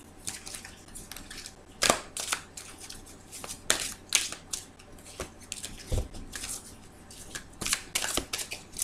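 Fairy tarot cards being shuffled by hand in a quiet room, giving a run of soft irregular riffling and slapping sounds with a few sharper card snaps, close and moderately quiet with no talking.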